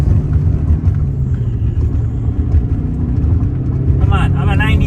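A Toyota AE111 Corolla Levin BZR rumbles hard under acceleration with wheel spin, engine loud and close inside the cabin, with people talking over it.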